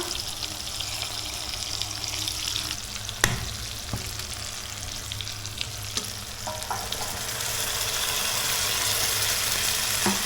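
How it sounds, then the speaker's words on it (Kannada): Water is added to masala frying in a pan for a Mangalore-style Bootai Puli Munchi sardine dish, giving a steady sizzle with a short splash and a few knocks, the hiss growing louder toward the end. "ಸ್ವಲ್ಪ ನೀರು ಹಾಕೊಳ್ಳುವ"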